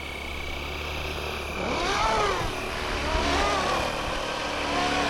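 A Flywing FW450 Airwolf RC helicopter spins up its rotor, a close steady whine and whirr that builds in loudness and rises in pitch partway through.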